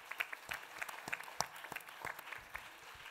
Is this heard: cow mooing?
no